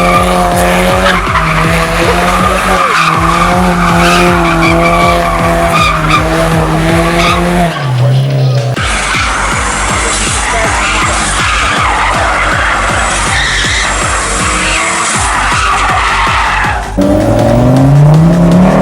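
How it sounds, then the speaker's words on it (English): Several cars drift around a roundabout amid tyre smoke, engines roaring loudly and tyres squealing and skidding continuously, with repeated revving swells and a brief lull partway through before the howling resumes. "people drifting around that roundabout, good luck"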